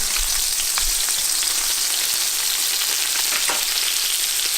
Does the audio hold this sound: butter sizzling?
yes